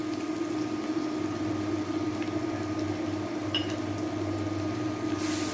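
Masala powder fries in a pan for Kerala-style chicken curry, giving a steady, close sizzle with soft bubbling and no talk.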